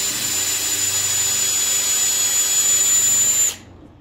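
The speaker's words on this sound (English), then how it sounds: "Let the drill bit do the work" Power drill boring through the oil gallery of a 383 big block engine block, a loud steady high-pitched whine that holds for about three and a half seconds, then cuts off abruptly.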